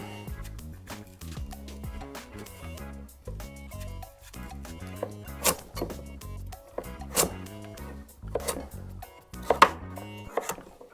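Repeated knife strokes chopping unpeeled pumpkin into cubes on a board, a steady rhythm of sharp thuds that grows louder toward the end.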